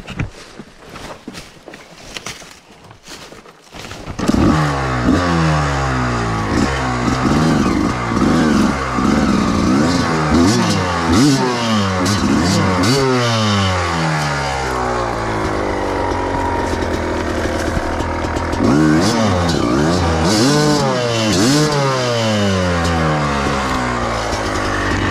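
Enduro motorcycle engine in the woods cranks after a few seconds of scuffling, catches and runs, then revs up and down repeatedly, loud and close, alone without talk.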